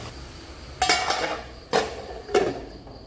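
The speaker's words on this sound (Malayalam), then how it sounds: "ഇതിക്കുള്ള ചെമ്മീനും കൂടി ഇട്ട് കൊടുക്കണം ഇത് നന്നായിട്ട് ഒന്ന് ഇളക്കി" Prawns and carrots are stirred in a pan, giving three distinct scraping, clinking strokes of utensil against metal, spaced about a second apart over a low background hush.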